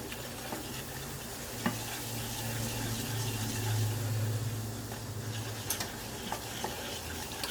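Flour is stirred into hot oil to start a roux, producing a soft, steady bubbling sizzle with a low hum underneath and a few faint clicks of a utensil, quiet and close.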